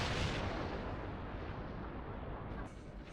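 A mounted turret fires in the Danganronpa 3 anime as a loud, sustained roaring blast that fills the clip and tails off slightly near the end.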